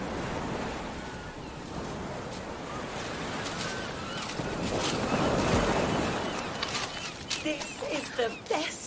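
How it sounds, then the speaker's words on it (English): Ocean breakers tumble and wash along a sandy beach in a steady, loud roar with swelling surges, wind buffeting the microphone, and a few sharper splashes near the end. "where the breakers tumble along the sand."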